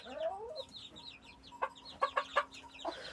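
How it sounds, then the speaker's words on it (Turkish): An Indian breed hen clucks beside her four chicks in a coop, giving a string of short, close clucks in quick bursts over faint high peeping, with no talking. "Şöyle bu tavuğumuz bildiğiniz gibi yine gurkuk Yanında dört tane civciv var."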